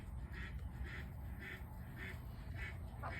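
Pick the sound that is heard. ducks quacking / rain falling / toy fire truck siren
ducks quacking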